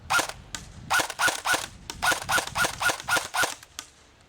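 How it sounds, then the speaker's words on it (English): An airsoft gun fitted with a modified JMag fires a run of about a dozen sharp shots at close range, evenly spaced in a steady, loud rhythm with no talking. "Let's just give a couple of shots here close."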